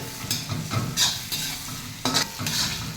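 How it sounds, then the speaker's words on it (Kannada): Cauliflower fries in a pan with a steady sizzle while a utensil stirs and scrapes it in repeated bursts, close and clear, with no talking. "ಕ್ಯಾಲಿಫ್ಲವರು ಚೆನ್ನಾಗಿ ಫ್ರೈ ಮಾಡ್ಕೊಳ್ಳಿ"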